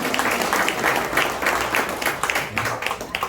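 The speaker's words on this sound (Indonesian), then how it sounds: "tepuk tangan buat semua" A seated audience at an Indonesian health-device seminar gives steady, close, dense applause that carries evenly throughout without pause.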